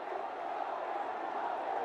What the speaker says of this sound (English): The huge roar from the crowd